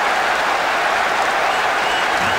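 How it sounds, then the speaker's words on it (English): Stadium crowd in the football video game eFootball 2023 applauding a goal, a dense, sustained wash of clapping and crowd noise at steady loudness throughout. "Even some of the opposing fans are clapping that."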